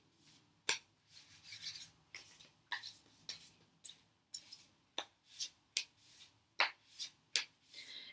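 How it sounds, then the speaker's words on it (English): Tarot cards being shuffled by hand, a run of about a dozen short, crisp riffling bursts in an uneven rhythm, close and fairly quiet, with no talking. "Shuffle a bit more here."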